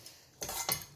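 Sweet and spicy cabbage stirred in a pan after sugar and lemon juice go in, heard as two quick, quiet metal scrapes and clinks of a spoon against the pan, with no speech.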